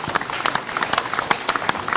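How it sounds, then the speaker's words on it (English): Audience applause at a national dialogue event in Ghana, a scattered, fairly close round of clapping with distinct individual claps standing out over a light crowd murmur. "Can we give them a big round of applause?"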